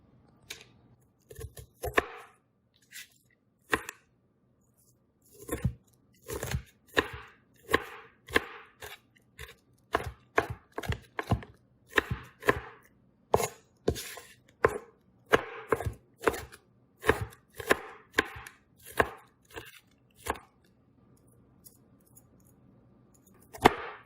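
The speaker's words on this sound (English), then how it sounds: "So let's begin by chopping up our vegetables." Vegetables are chopped on a cutting board for a mushroom gravy: a long run of crisp, close knife strikes, some isolated and some in quick bursts, with brief pauses between and no talking.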